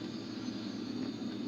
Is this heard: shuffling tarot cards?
no